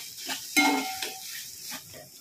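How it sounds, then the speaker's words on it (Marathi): Coriander leaves stir-fried in a pan for guar thecha, with a short burst of sizzling and the scrape of stirring, fairly close and moderately loud, with no talking. "कोथिंबीर आता मी यामध्ये परतवूनच घेत आहे"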